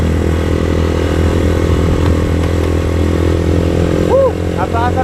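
A sportbike engine runs steadily up close, a constant low drone with a brief whine near the end.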